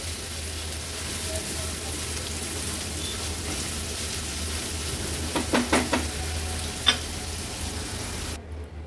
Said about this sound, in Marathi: कांदा तेलावर छान परतून घेते।